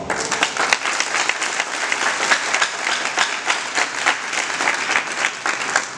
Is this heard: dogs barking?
no